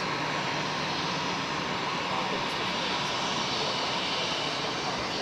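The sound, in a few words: airplane at Zurich Airport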